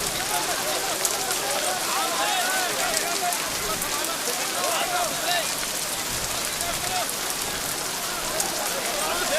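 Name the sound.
rain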